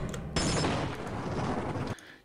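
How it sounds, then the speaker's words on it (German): Explosive charges going off in the Half-Life game, a sudden loud blast burst that roars and crackles for about a second and a half before cutting off, alone without talk. "Die Sprengladungen lösen aus, wenn ich hier durchgehe."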